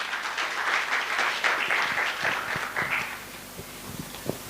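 Applause from attendees at an organization's 20th anniversary celebration at a resort, a fairly loud burst of clapping that thins out over the second half into scattered individual claps.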